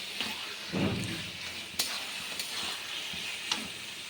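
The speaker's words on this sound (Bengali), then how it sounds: "এটা একটু এখন ভালো করে নাড়ব ভালো করে নেড়ে নেবো কচুর শাকটা" Taro leaves fry in a pan with a soft, steady sizzle. A few stirring scrapes and clinks come through, faint and close. No one speaks.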